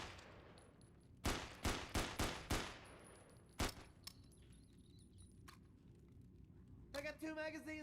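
A Mac 10 submachine gun in the game No More Room in Hell 2 fires a short rapid burst of sharp cracks, then a single shot and a faint click, with a voice talking afterward.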